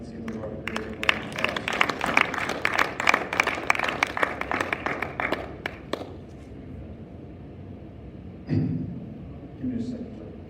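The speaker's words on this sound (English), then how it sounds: "Let's give the Lord a great applause." A church congregation applauds in a dense, loud burst of clapping for about six seconds, then breaks off into a quieter room where a voice is heard.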